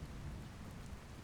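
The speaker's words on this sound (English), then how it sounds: "I like all the mist in the air, and the rain effects look really good" Steady, dense rain with a low thunderstorm rumble in the Skyrim SE video game, heard alone as a continuous wash of falling rain.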